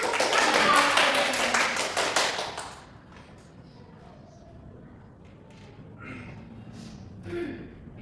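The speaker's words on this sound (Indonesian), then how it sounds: "Tepuk tangan dulu." Classroom clapping, a burst of many hands clapping together for about three seconds, then fading into quiet room noise with faint scattered sounds.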